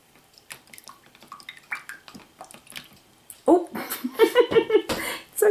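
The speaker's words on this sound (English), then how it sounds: "Makes a weird jiggly sound when you're done." Wet, squelching slime sounds in a quick irregular burst, following softer scattered handling noises, close up with a little laughter.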